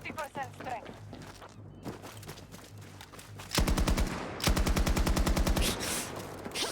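Heavy automatic weapon fire in Battlefield 2042, loud rapid bursts of evenly spaced shots in two long strings near the end, following quieter game ambience and a voice speaking early on.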